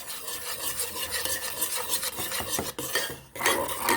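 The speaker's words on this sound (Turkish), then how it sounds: "Ben ilk önce iki malzememi güzelce bir karıştıracağım." Glitter glue slime being stirred in a bowl, a Bubu and Elmer's glitter glue mixture: a continuous close, wet rasping and scraping that churns without a break, briefly stopping twice near the end.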